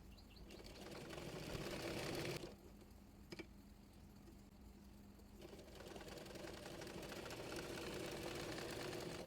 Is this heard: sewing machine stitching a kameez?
yes